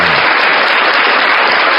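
Loud, dense applause from a crowd at a live religious debate, a continuous wash of clapping that fills the whole brief moment without a break.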